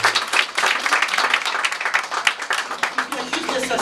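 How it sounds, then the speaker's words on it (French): An audience claps loudly for a woman being introduced at a Women's Day event with a legislative candidate, dense sustained applause filling the room with voices mixed in. "Je voudrais qu'on applaudisse très fort Vanessa Vieux-Ménil."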